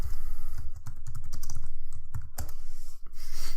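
Close, loud clatter of fingers on a computer keyboard, quick uneven keystrokes running steadily throughout with one brief pause near the end, no talking.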